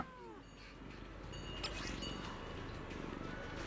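A cat meows in the video game Zenless Zone Zero, a couple of short rising calls near the start over steady game ambience and background music.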